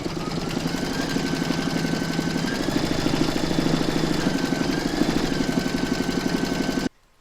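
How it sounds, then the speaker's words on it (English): An embroidery machine stitches the outline of a doll, a fast, even mechanical chatter with a steady hum beneath it, close and continuous before it stops abruptly. "You're now going to pop that into your machine and stitch round number 2 to secure them."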